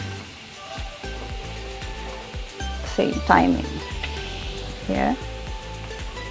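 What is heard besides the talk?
garlic and onions sautéing in a pan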